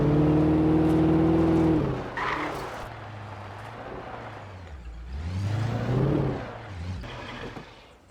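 A car drives in Alan Wake Remastered, its engine droning loudly, then tires squeal as it skids and the engine revs rise and fall through turns.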